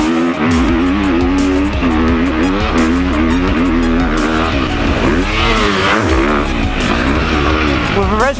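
Loud, continuous four-stroke engine of a 2019 KTM 250 SXF motocross bike, pitch rising and falling through repeated revs and gear changes on a track, with a voice talking over it.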